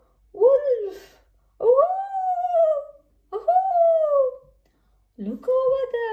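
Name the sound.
wolf howling in a children's song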